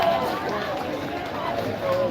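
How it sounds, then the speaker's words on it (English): A crowd of protesters at an evening march, talking amongst themselves and moving around, heard as a steady murmur of overlapping voices and shuffling at moderate distance. "it's just too much noise from people talking amongst each other and moving around and whatnot"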